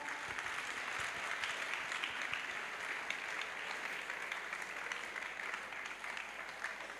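Sustained applause from a crowd at an evangelism crusade, a steady dense wash of clapping lasting throughout with no speech over it.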